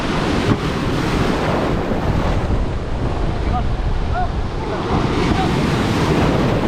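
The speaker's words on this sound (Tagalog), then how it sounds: "Malakas ang alon." Strong ocean waves at sea crash and churn around a small boat, a loud continuous wash of surf mixed with heavy wind buffeting the microphone.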